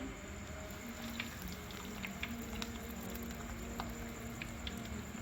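Aloo chicken kababs fry in hot oil on a tawa over a medium-low flame, giving a faint, steady bubbling crackle with scattered small pops throughout.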